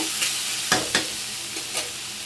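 Chopped gurugaku leafy greens fry in a pan with a close, steady sizzle, punctuated by several quick spatula stirs and scrapes, no talking.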